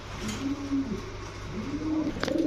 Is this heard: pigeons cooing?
yes